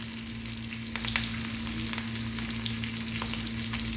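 An omelette with coriander, mushrooms, olive rings and tomato frying in a pan, a steady soft sizzle with faint crackles and the occasional scrape of stirring, close and quiet with no talk.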